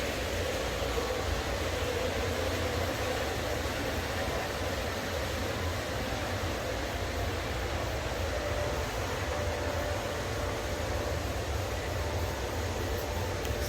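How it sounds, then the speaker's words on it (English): A model train runs on a museum train set, heard as a steady, continuous rolling rumble and hiss that stays even throughout, with no distinct approach or fade. "And we'll probably get passed by a train"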